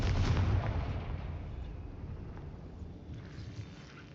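In the Hogwarts Legacy video game, a Confringo spell explosion lands as a deep, booming blast at the start, then fades into a low rumbling tail over a few seconds.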